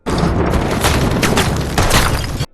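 A gunshot from an action film scene where a bricklayer working high up is shot in the stomach. It comes as a loud, dense blast with crackling debris that fills the whole stretch, then cuts off abruptly.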